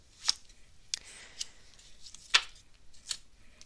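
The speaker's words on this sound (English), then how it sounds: "I'm going to pull out 5 cards." Tarot cards pulled one by one from a deck, giving several short, crisp papery snaps and slides spaced irregularly, quiet and close with no voices.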